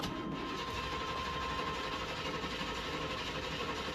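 An engine being cranked to start after a fuel filter change makes an unbroken whirring mechanical drone that holds steady at a moderate level throughout, with no talking.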